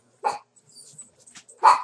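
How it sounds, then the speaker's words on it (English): A dog barks at a cow, two sharp barks near the start and end with faint rustling and small noises between them. "The dog's barking at a cow."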